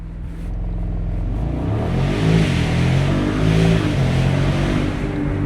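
A 2026 Mercedes-Maybach SL 680 launches hard from a standstill to 60 mph after being brake-torqued without launch control, its engine rumbling loud and steady and rising as it pulls, heard from inside the cabin with no talking.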